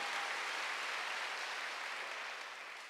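A congregation claps steadily during a Korean Sunday church service. The applause is dense and continuous, heard from within the room. No one speaks over it, and it fades slightly toward the end.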